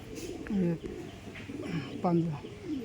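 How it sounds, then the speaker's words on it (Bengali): Madrasi pigeons in a loft give repeated soft, throaty coos in short rising-and-falling phrases, fairly close and moderately loud, with a low rustle of other birds behind. "এখানে বাড়ির সব পায়রা আছে"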